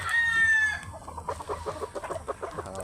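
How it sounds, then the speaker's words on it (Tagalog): A rooster crows loudly nearby, one long ringing call followed by a run of rhythmic clucking. "Pag makakita sa atin to, tumutulaok na yun."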